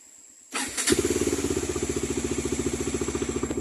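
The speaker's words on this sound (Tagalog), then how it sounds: "So buhayin natin yung ating motor." A motorcycle engine cranks and catches in the dark, then settles into a steady, close, rhythmic idle with regular pulsing beats, heard alone with no talking.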